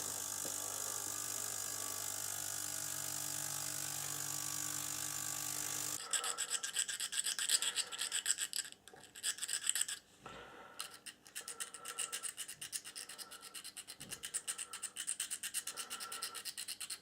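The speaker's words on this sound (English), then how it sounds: "I'm going to lightly scrape the sides to get rid of the layer lines from the printing process." A very sharp scalpel knife scrapes away layer lines from the sides of a 3D-printed model of a 27-ton iron ore tippler wagon: a steady hum for six seconds, then close, repeated rasping strokes with brief pauses.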